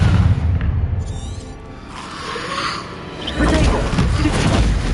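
Fiery spell blasts in Hogwarts Legacy, a few broadband booming whooshes with rumbling low end, fairly loud and continuous over game sounds.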